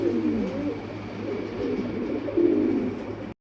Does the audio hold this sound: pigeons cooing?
yes